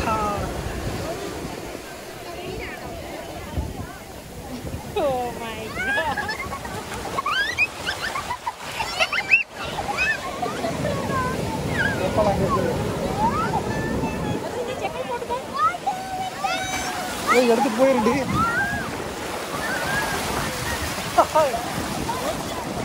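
Sea waves wash and surge continuously along Alappuzha Beach, a broad steady roar of surf with wind, mixed with people talking nearby throughout.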